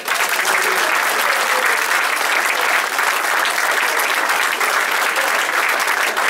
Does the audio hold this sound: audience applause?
yes